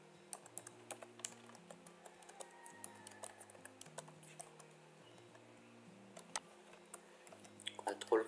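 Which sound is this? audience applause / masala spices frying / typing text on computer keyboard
typing text on computer keyboard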